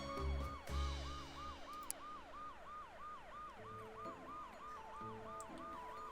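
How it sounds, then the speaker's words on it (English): A police car siren in a zombie RTS video game, a steady rapid wail cycling up and down without break, faint and electronic, with low thuds at the start. "Police car's on its way to the police station."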